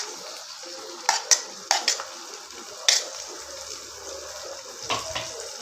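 Tomatoes go into a pan of sautéing onions for veg kurma, with a few sharp clinks and scrapes of a utensil against the pan over a soft background hiss, close and intermittent, and no talking.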